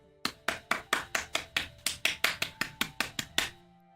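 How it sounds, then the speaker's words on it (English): Two people, a husband and his son, clap together at a home birthday after candles are blown out: about sixteen sharp, evenly spaced claps, close and fairly loud, with no voices. "After I did, they both stood up clapping."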